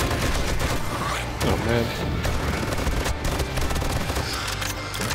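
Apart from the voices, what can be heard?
gunfire bursts in video game 7 Days to Die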